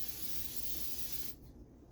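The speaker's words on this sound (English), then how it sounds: "I'm going to spray the tops" Cooking spray hisses onto potato skins over a sink in one close, steady burst lasting over a second, then cuts off to quiet room tone.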